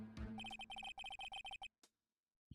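A cell phone ringtone in the video game Phoenix Wright Ace Attorney trills as a fast run of bright, evenly pulsed electronic tones, then cuts off, leaving a couple of faint blips.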